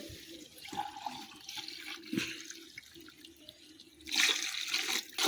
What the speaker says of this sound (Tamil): இப்போ தேங்காய் பால் ஊற்ற போறீங்க